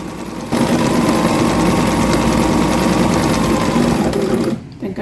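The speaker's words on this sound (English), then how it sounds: "sew down each side of the tie, folding in the end so that you've got a neat finish at one end." A sewing machine runs steadily for about four seconds, stitching down the sides of a fabric tie for a cafetiere cover, its whirring motor close and loud before stopping.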